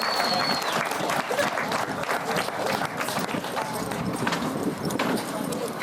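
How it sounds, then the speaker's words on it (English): Crowd applause at an outdoor polocrosse awards ceremony, a dense patter of many hands clapping continuously and fairly evenly throughout, with some background voices. "Big round of applause for these"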